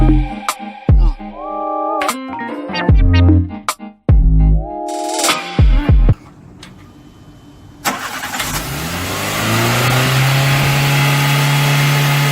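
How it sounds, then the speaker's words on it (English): A car engine revs high at around 2000 rpm with no accelerator pressed, loud and close, with sharp stuttering bursts early on before settling into a steady sustained drone with a strong low tone. "My foot is not on the accelerator pedal at all. Look at the revs. 2000."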